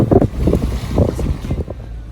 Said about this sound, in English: we've got the engines revved up and we're barely going like 5 point something